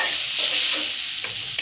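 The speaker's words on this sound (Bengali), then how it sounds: "এখন কষাবে।" Green chilies and onions sizzle and stir in hot oil in a pan while cooking a dal with cauliflower and flat beans, a steady close frying hiss with a few soft stirring scrapes, no talk.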